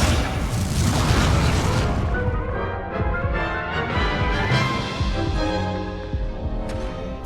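A fire spell burst cast in Hogwarts Legacy: a loud, dense whooshing roar that swells at once and keeps rumbling through a busy game soundscape, with layered crackling texture fading slightly toward the end.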